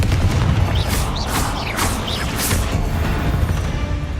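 A Confringo explosive spell blast goes off in Hogwarts Legacy: a loud, sustained booming roar with brief bright magical zips riding on top, filling the whole stretch without a pause.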